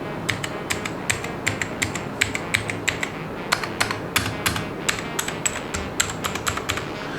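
Rapid typing on a Portronics K1 mechanical RGB keyboard, a dense stream of sharp, close clicky keystrokes in irregular bursts with no talk.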